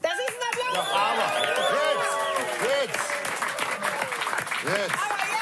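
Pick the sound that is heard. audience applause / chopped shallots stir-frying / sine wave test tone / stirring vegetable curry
audience applause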